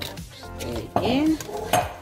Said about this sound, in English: See, I'm always stirring.